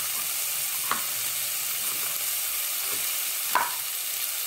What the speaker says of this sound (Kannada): ಸ್ವಲ್ಪ ಫ್ರೈ ಮಾಡ್ಕೋಬೇಕಾಗುತ್ತೆ, ಇದೆಲ್ಲ ನೀಟಾಗಿ ಫ್ರೈ ಮಾಡ್ತೀನಿ.